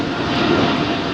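An Air Canada Boeing 777 jet airliner passes near Heathrow. Its engines make a brief, loud, steady roar.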